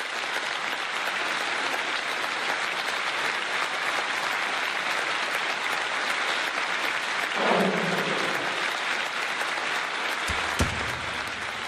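Sustained applause from a theatre crowd, a dense steady roar of clapping hands that carries on without pause throughout, with a brief low thump near the end.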